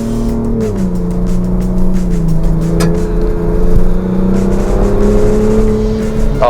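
A Ford Bronco Raptor accelerating, heard from inside the cabin, with a loud engine note whose pitch drops at a gear change and then climbs steadily as it pulls, under continuous road rumble.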